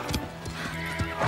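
A horse neighs loudly in a close whinny, mixed with clip-clop hoofbeats and breathy snorts, in a scene from an animated horse-riding series.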